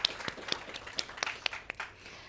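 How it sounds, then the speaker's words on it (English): Audience applause for a panel of speakers at the close of a discussion event on domestic work in South Africa, heard as a short, thin patter of separate claps from a small crowd, fading out toward the end. "Let's give them a round of applause."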